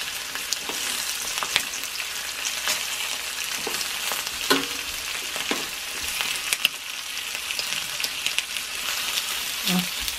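Bacon fries in a pan at breakfast with a constant crackling sizzle and sharp pops scattered throughout, close and fairly loud.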